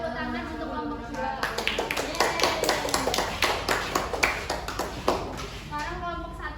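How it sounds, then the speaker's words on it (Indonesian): Classmates clap for a group that has just finished its presentation in a school classroom, a burst of scattered, fairly close hand claps rising after a short pause, with children's voices heard around them. "Beri tepuk tangan untuk kelompok 2"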